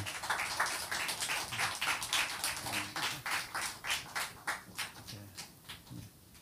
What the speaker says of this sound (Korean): 다 함께 사랑과 우리 격려와 축복의 박수를 한번 드리면 좋겠습니다.